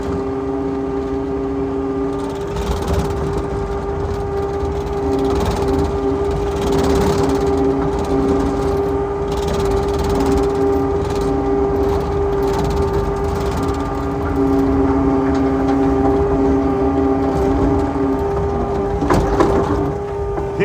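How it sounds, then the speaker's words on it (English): A stump grinder chews through tree stumps, its loud engine droning steadily throughout with a rough, churning texture and small surges in load, close by. "Grind all the other tree stumps before."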